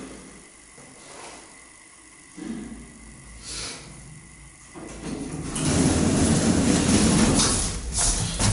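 A 400 kg capacity freight-passenger elevator in a residential building starting to move, with soft clunks and mechanical knocks, then a louder steady rumbling whir as the car gets under way.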